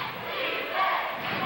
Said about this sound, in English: Crowd's starting to step up a little bit and give the Hawks some help.